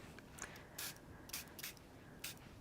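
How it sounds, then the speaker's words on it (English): A spray bottle spritzes over a wet painted background, several short hissing bursts, close and quiet, spaced irregularly. "you could still give it a little spray and spray over the top and just move it a little bit"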